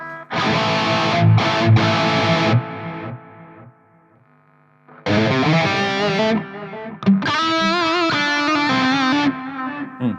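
Electric guitar solo played through distortion, delay and reverb for a song cover, loud sustained bent notes in two long phrases split by a brief near-silent gap, with the echoes trailing behind.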